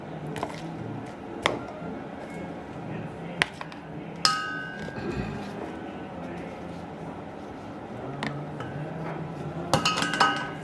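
Chillies pressed down into a glass jar while canning, with scattered clinks and knocks of glass and utensils, a few sharp taps and soft squishing amid quiet background, a voice speaking intermittently.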